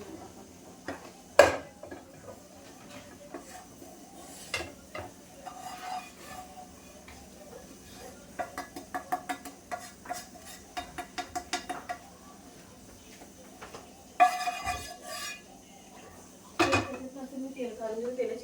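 Upma scooped from a hot pan into a bowl, with repeated metallic clinks and scrapes of a spoon against the pan, bursts of rapid tapping, and kitchen clatter at close range.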